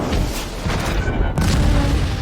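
A heavy, booming explosion in the film Captain America: Brave New World roars loudly, with rumbling blasts and a sudden cut in the din partway through.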